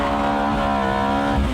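A 490-horsepower sports saloon drifting and sliding, its engine holding a steady loud drone with a sustained, rising tire squeal near the end, close and continuous with no talk.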